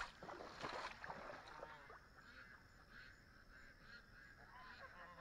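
Ducks at a barn door quack and honk repeatedly in a restless chorus, heard from a moderate distance over steady outdoor background noise.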